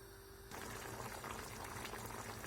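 A pot of menemen simmers and bubbles on the stove. After a brief quiet start, a soft, steady bubbling rises and continues at a low level.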